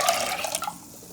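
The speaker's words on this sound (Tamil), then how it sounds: "மீதி வடித்து வச்சுருக்கோம்ல இந்த தண்ணி இந்த சூப்லேயே சேர்த்துக்கலாம்." Strained spinach cooking water poured into a pot of homemade spinach soup, a soft splashing trickle up close that gradually thins and fades out.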